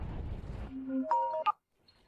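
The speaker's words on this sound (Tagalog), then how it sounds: "may tunog ng cellphone" A cellphone rings indoors during a tense dramatic scene, a short run of bright electronic tones stepping upward before cutting off into silence.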